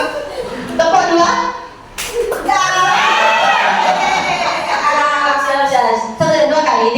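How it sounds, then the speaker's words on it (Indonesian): A group claps in unison twice during a teacher-led session at a school gathering, each clap a sharp, separate burst over ongoing talk and a few chuckles. "Tepuk tangan 2 kali."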